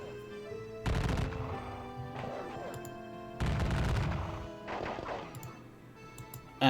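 Volleys of musket gunfire in a Gettysburg wargame, three loud crashing bursts of massed shots separated by quieter gaps, with a few sharp clicks near the end.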